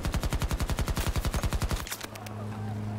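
Rapid automatic gunfire in Battlefield 2042, a loud, fast, evenly spaced burst of about twenty shots that cuts off abruptly, followed by a few sharp trailing hits over a low game hum.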